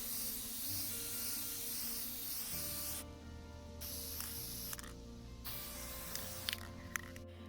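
Sealer coats are sprayed onto a wooden box in several close, steady hissing bursts separated by short pauses, quiet and alone.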